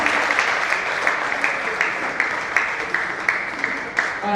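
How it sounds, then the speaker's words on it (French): A theatre audience applauds the camera crew with steady, dense clapping that carries on throughout at a fairly loud level, with no speech over it. "Est-ce qu'on peut applaudir ceux qui s'occupent de l'aspect caméra?"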